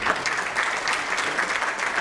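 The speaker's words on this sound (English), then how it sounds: "again, a round of applause to him." Audience applause at an industry award ceremony, a continuous moderate crowd of hands clapping, even and fairly close, with no speech over it.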